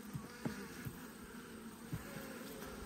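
Honeybees buzz around a beekeeper at an open hive in autumn, a faint, steady insect drone with a few brief louder passes close by and no talk.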